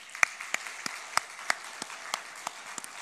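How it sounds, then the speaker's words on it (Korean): Church congregation applauding for the women's mission society, scattered sharp claps at a distance, sparse and uneven rather than a full roar, with no talking. "오늘 우리 여선교회를 위해서 박수해 주십시다."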